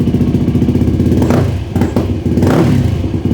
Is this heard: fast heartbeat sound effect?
no